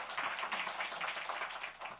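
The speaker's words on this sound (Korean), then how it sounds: "우리 박수로 환영하겠습니다" Audience applause welcoming a pastor to the stage at a church service, a steady dense patter of many hands clapping at moderate loudness throughout, with no talking over it.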